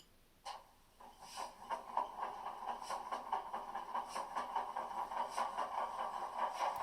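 A model diesel locomotive's engine sound from a LokSound V5 decoder in an Atlas HO HH600/660 switcher starts up after a brief click and settles into a steady, close idle rumble with a rhythmic chugging pulse, with no talk over it.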